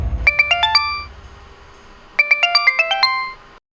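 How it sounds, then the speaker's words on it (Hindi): A phone ringtone plays two bursts of rapid rising electronic chime notes separated by a short pause, loud and close, signaling an incoming call. "उस दिन अचानक उसका कॉल आया"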